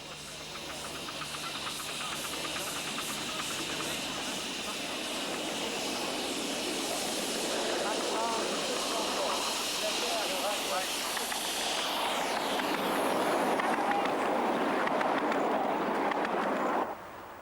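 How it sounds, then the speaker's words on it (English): Miniature LMS Black 5 steam locomotive, number 5000, departing on a small garden railway with a continuous loud hiss of steam and rapid chuffing that builds toward the end, with talk faintly over it. "An early departure from Hardwick Central is hauled by a very fine LMS Black 5, number 5000"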